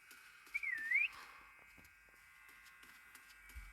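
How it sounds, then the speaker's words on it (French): A single swooping whistle in a Backrooms video game, rising and falling briefly near the start over a faint electrical hum, followed by scattered soft clicks and quiet background noise. "C'est trop chiant les sifflets, je trouve."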